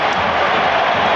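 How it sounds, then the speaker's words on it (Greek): Olympiacos fans applaud in a packed stadium during a 1997-98 Champions League qualifier against MPKC Mozyr, a dense, steady wash of clapping and crowd noise held at full level throughout. "Χειροκροτήματα από τους οπαδούς του Ολυμπιακού."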